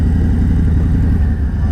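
Motorcycle engines idling and rumbling loudly and continuously at a crowded bike rally in La Manga, a dense low drone with no clear single rev.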